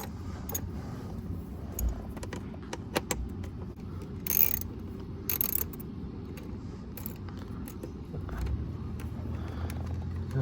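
Metallic ratcheting and clinking of a wrench loosening bolts on a 2009 Chevy Malibu steering column, scattered clicks and a couple of brief louder bursts over a low background hum, no talk.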